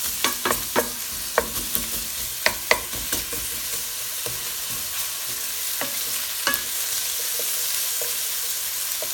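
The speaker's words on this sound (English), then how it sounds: "Frying up nicely. Now that the onions are cooking down" Onions sizzling and frying in a pan, a steady soft sizzle broken by sharp clicks and scrapes of stirring, close up and without talk.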